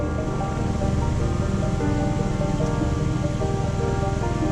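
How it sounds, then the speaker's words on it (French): Heavy rain pours down during a stop on a motorcycle ride, a dense, steady roaring hiss that holds at an even loudness throughout, with no voices. "il y a une belle averse"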